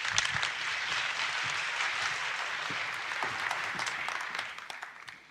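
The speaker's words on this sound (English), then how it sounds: "If we give Stacey a huge round of applause." An audience at an SEO conference claps for the first speaker taking the stage, a dense, steady round of applause with crisp individual claps that thins out and fades toward the end.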